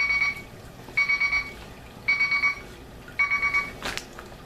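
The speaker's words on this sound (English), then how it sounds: "And there's my Brew Smith timer." A Brew Smith brewing timer beeps in four evenly spaced bursts of rapid electronic chirps, close and clear, followed by a short clatter at the end.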